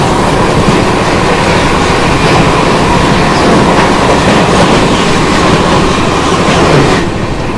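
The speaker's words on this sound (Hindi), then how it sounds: "ये गई संपूर्ण क्रांति एक्सप्रेस, बिल्कुल राजधानी के एक स्टेशन बाद ये चल रही थी।" Sampoorna Kranti Express thundering past on a crossing with another train on an Indian railway line, a loud, continuous close rumble with rapid clickety-clack of wheels that holds steady before easing slightly at the end; no voices.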